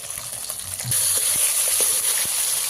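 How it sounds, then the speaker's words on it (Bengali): Pieces of rohu fish frying crisp in hot oil in a home kitchen, a steady close sizzle that swells louder about a second in and holds, with faint stirring taps. "বেশ মাছগুলো কড়া কড়া ভাজা হইতেছে, মাছটা ভালোই হয়েছে।"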